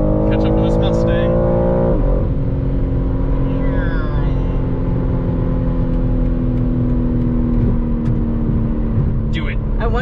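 A 2021 BMW M3 Competition pulls hard, its loud engine drone rising steadily in pitch through a long gear as it chases a Mustang, with road and wind noise throughout.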